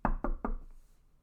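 Three quick knocks on wood, close and crisp and evenly spaced, followed by a fainter fourth tap and then quiet, with no talking over them.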